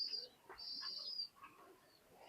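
Birds at a Teddy Pigeon Sale, a market selling bloodline pigeons, give thin, high whistling calls in two longer bursts, with softer chirps between them. No one speaks.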